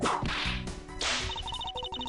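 Sharp whip cracks from the Ace Attorney Investigations courtroom game, several loud lashing swishes in quick succession followed by short chiming game tones, with no talk.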